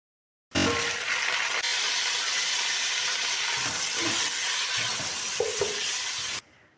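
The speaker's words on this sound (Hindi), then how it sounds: "अब मैं इसको थोड़ा सा फ्राई करूँगी, ताकि चिकन का कलर भी ऊपर से वाइट हो जाए" Chicken pieces frying in a pan while cooking pulao, a loud, steady sizzle starting abruptly and running close and continuous with occasional stirring scrapes, then cutting off.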